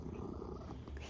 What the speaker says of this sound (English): I don't know if you hear him, but he's purring.